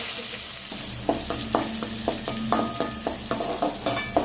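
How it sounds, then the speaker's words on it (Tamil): Mustard seeds, two dried red chillies and shallots crackle in hot oil, a continuous sizzle broken by a regular run of sharp spoon taps or pops, close and fairly loud. "எண்ணெய் காஞ்சிச்சு. இப்போ கடுகு சேர்த்துக்கலாம். 2 வரமிளகா, சின்ன வெங்காயம்"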